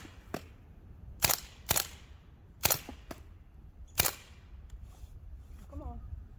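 An Umarex StrikeForce BB rifle fires several sharp, snappy cracks at irregular intervals, each short and distinct against a quiet background, with a faint voice near the end.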